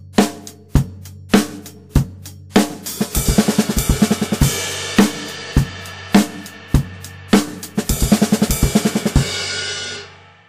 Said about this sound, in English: And that could be moved to the cymbals as well, which would sound like this.